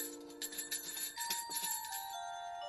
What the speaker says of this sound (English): there was a tinkling and jingling of sleigh bells